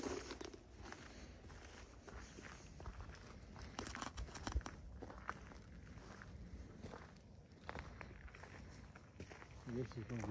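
Soft footsteps crunch and shuffle over gravel in a cemetery in Tonopah, Nevada, a quiet, continuous scuffing with voices murmuring over it.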